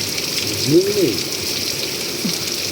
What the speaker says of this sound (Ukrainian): Ну, теплий, теплий дощ